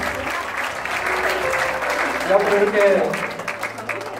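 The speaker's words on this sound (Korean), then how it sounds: "이 모든 위원님들 힘든 일 잘하시라고 큰 박수로 부탁드리겠습니다" Audience applause for the committee members at the founding assembly of the Gyeongbuk Labor Human Rights Center, steady and full throughout, with someone speaking over the clapping.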